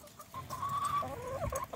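Backyard hens cluck softly and continuously, a low, fairly quiet murmur of several birds with no talking.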